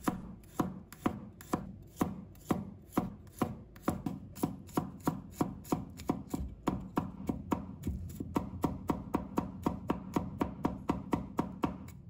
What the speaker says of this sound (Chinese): 再准备一把大蒜，把它切成末